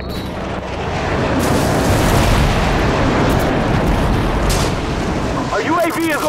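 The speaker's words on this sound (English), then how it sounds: "Friendly airstrike on the way!" Airstrike explosions in the video game Call of Duty 4: a long roaring blast of rumbling, crackling detonations, loud and sustained, fading near the end as voices from team radio chatter come in.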